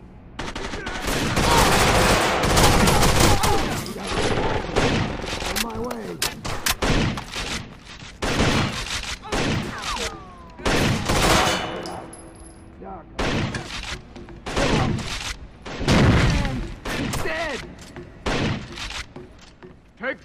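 Rapid bursts of automatic gunfire and single shots in the Rainbow Six Vegas 2 terrorist hunt at the Calypso Casino, loud and close in clustered volleys with short pauses, while players shout over the shooting.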